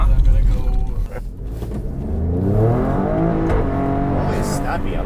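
An Alfa Romeo Stelvio SUV in manual mode accelerating hard, its engine note climbing steadily in pitch as heard from inside the cabin, loud and continuous.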